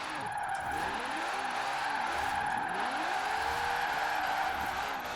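The fastest car in Forza Horizon 4 drifts with a steady, loud tire squeal and a high-revving engine whine held throughout, alone with no voices.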